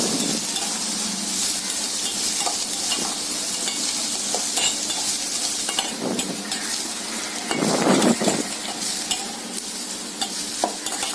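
Onions frying for an egg pepper fry, a steady oily sizzle in a pan broken by several louder scraping stirs of a spoon, close and continuous with no voices.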